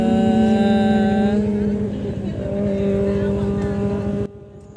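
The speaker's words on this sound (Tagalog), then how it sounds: "may dumaan na big bike. Grabing tunog." A loud big bike motorcycle engine roars steadily past on the Marilaque highway, droning and shifting pitch as it goes by, then cuts off abruptly near the end.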